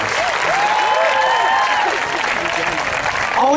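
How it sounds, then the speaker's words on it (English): An audience at a campus event claps in a loud, dense, steady wash of applause, with a voice speaking over it. "Let's give them a round of applause."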